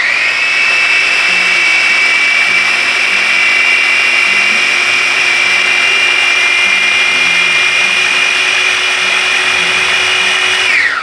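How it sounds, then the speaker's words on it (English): An electric chopper whirs steadily as it purees pumpkin into a thick golden sauce, a loud, constant high motor whine that holds for about ten seconds before winding down. "because this is a chopper"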